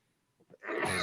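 A single sharp sneeze bursts out after a brief intake of breath, loud and close.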